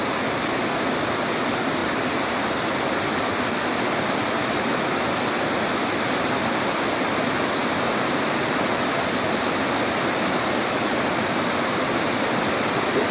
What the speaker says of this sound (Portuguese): Lá estão as quedas d'água,